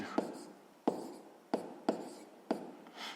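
Pen or chalk writing out a sixth-grade math solution by hand, a series of scratchy strokes in an uneven rhythm, close and moderately loud, with no talk.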